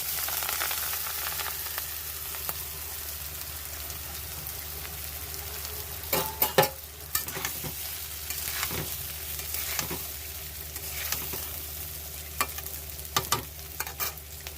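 Rice fries in a wok of hot ghee and oil, a long steady sizzling hiss with scattered sharp clinks and scrapes of a spatula stirring, close and continuous, with no one speaking.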